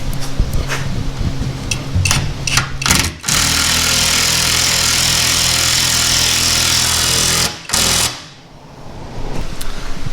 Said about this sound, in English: Then mark your holes and drill a hole.